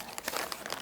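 A plastic sheet is crinkled for laying on the floor beneath a spring-themed kids' butterfly art kit, giving a soft, steady rustle with crisp crackling bursts throughout, fairly quiet and close, with no voices.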